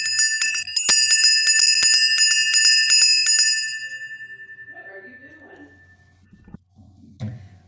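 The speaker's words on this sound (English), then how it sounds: "We begin our service with the lighting of the Christ candle and the ringing of the bell." A single hand bell rings repeatedly at the start of a church service, a rapid bright jangling that is loud and close, then fades into a long decaying ring with faint background noise.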